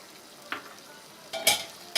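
Frying brinjal with tamarind water stirred in for a karakuzhambu, with a steady soft sizzle and a few stirring scrapes, the loudest of them near the end, heard close.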